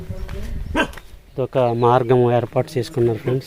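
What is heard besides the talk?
dog barking at village newcomers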